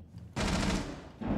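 Rapid video game gunfire rattles out as a dense, loud burst through most of the moment, with a short pause before a final volley, no talking over it.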